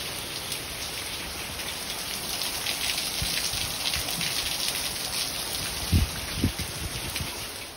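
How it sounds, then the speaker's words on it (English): Heavy rain pours down steadily around a van under conversion, a dense continuous hiss with no voices and a couple of louder knocks or drips near the end. "No rain for months and then it all comes at once."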